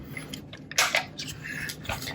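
A vintage Kodak Instamatic 100 camera makes a few small mechanical clicks and a sharper shutter snap, close up in a quiet room, with no talking.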